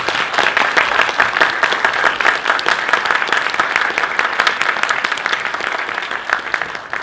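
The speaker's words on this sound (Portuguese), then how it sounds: "mais uma vez, uma salva de palmas para quem já vem fazendo isso há muito tempo" Audience applause fills a comic convention panel at ComicCon RS, steady dense clapping throughout at an even, fairly loud level with no talk over it.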